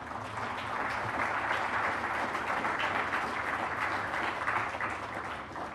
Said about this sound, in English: So an applause for Dasra.